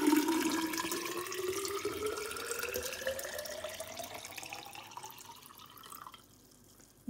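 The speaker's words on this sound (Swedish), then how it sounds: "Nu ska jag fylla i vatten i bägaren." Water pours steadily into a beaker, the filling tone rising continuously as the vessel fills, close and clear, then the flow stops near the end.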